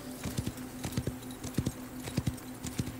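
Horse hooves galloping in the Wild West Online video game, a quick repeating beat of paired hoof strikes over a steady low tone, moderately loud and without talk.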